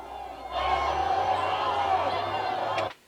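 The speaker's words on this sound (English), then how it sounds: "the second it goes to the other people, it's a crowd in the background" Background crowd murmur in a cartoon scene rises in as a dense, steady wash of many voices, holding for a couple of seconds before cutting off abruptly at the end.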